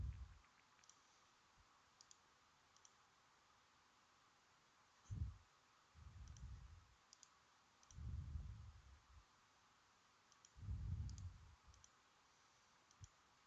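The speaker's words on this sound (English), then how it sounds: "I'm right clicking and moving the stations" A computer mouse is right-clicked while items are dragged around a map on screen, giving sparse, soft clicks over a quiet hiss with a few brief low bumps.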